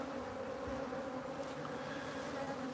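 A few honeybees buzz softly and steadily around a swarm box, a faint, continuous drone close by with no voices.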